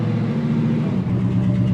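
A truck passes close by at the Indiana State Fairgrounds, a loud continuous engine rumble and drone with no pause.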